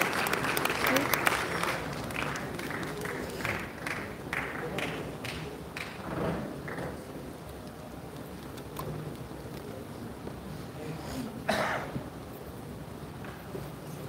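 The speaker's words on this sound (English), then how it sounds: "Can we please have a round of applause?" A hall audience at the Pune International Film Festival (PIFF) awards ceremony claps as a film actor and festival trustee comes to the stage. The applause is fairly distant and soft, stronger at first, then thins to scattered claps.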